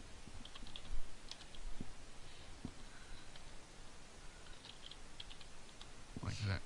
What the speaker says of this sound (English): And type this